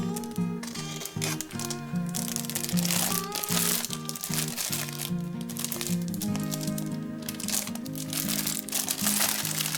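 Plastic foil wrapping on a De Agostini Fiat 125P model-kit partwork issue is peeled and unwrapped, producing continuous close crinkling and crackling, with tonal music faintly underneath.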